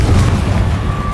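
A Confringo blasting spell goes off in Hogwarts Legacy, a single short, heavy booming explosion with a deep rumbling body that stays loud for its brief length.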